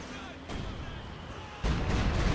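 Artillery firing in the World War II strategy game Company of Heroes 2: two deep booming blasts with rumbling tails, the second louder, while someone talks over them.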